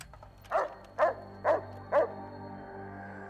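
A cyborg dog in Fallout New Vegas barks four times at an even half-second pace, clear and fairly close over a quiet game ambience hum, with no talking.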